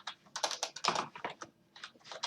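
Fast, uneven clatter of keys on a computer keyboard as code is typed, close and fairly loud, with bursts and short pauses and no voices.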